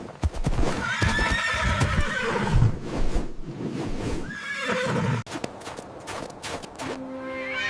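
Horse neighing and clip-clopping hooves: several loud, shrill whinnies rise and fall over quick hoof clatter, with a brief pause near the end before a final neigh.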